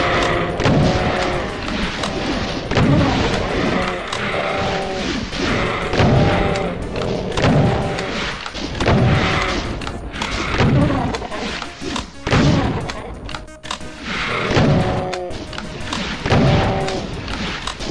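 Repeated heavy rocket launcher explosions in a video game, booms and thuds hitting in a rough rhythm, loud and close, with blasts spaced a second or two apart throughout.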